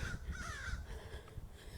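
Crows caw outdoors during a morning walk, faint, hoarse calls over a low rumble of wind and ambient noise.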